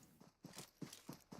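Footsteps from a video game, a doubled set of quiet, evenly spaced hollow steps about every 0.4 seconds, faint and with no talking over them.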